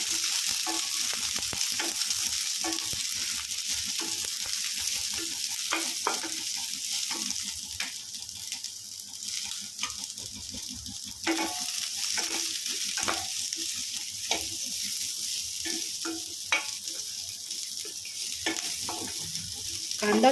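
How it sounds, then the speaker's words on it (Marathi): Onion fries in oil with ginger and garlic for amti, a steady bright sizzle running throughout, with frequent light taps and scrapes of a spoon stirring the pan. "कांदा चांगला हलका ब्राऊन होईपर्यंत चांगला भाजून घ्यायचा आहे."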